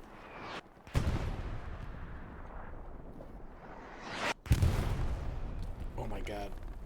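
Artillery shells land in Hell Let Loose during a competitive match, with two heavy booming impacts and rumbling debris between them, while players talk over the barrage.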